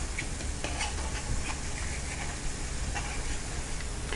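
Aval bread vadai deep-frying in hot oil, a steady dense sizzle and bubbling that runs without pause, close and fairly loud, with no voices.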